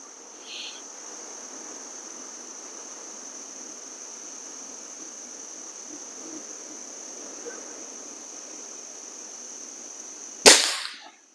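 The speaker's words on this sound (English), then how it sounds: "let's get this as shot number 9" A single sharp crack from a .22 caliber Diana 250 air rifle comes near the end, after a long stretch of steady cricket chirring and hiss outdoors.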